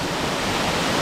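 Cavern Falls waterfall near Saluda, North Carolina, a steady close roar of falling water that fills the whole short stretch without a break.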